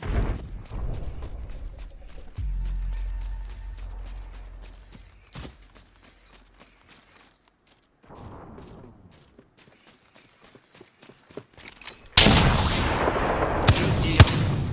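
Weapon fire in Apex Legends, a few heavy shots and bursts over a rumbling low backdrop, dropping to near silence before a loud dense burst of gunfire and explosions near the end.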